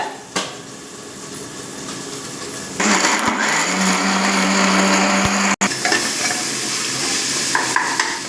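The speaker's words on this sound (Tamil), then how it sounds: "இந்த மசாலாவோட சேர்த்துட்டு நல்லா நைஸாக அரைச்சிக்கணும் மிக்சியில்" A mixer grinder grinding masala with shallots starts up with a loud, steady whirring drone, runs for a few seconds, cuts off abruptly, then restarts with a continuous whir.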